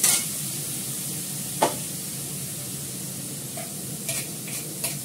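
Onion and garlic frying in a pan on a lowered gas flame, a steady close sizzle with a few brief stirring scrapes and clinks, no talk.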